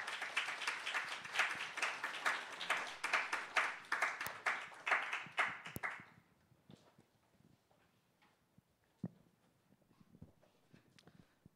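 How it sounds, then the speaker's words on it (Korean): A Korean church young-adult congregation applauds to welcome a pastor at a Sunday service, brisk mixed clapping for about six seconds that stops suddenly, leaving a few scattered taps and room noise. "우리 올 때 나오실 때 큰 박수로 맞이하겠습니다"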